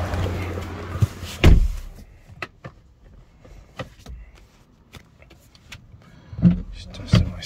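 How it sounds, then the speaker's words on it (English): Someone climbs into a 2019 BMW 330e M Sport plug-in hybrid: a few thuds and rustles of getting seated, a firm door shut, then further clunks and a second solid knock near the end, all close by with no talking. "Just get into the car."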